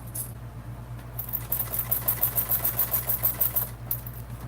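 A sewing machine stitches a bag seam, running in a steady rapid rhythm after a hesitant start, with a low motor hum throughout.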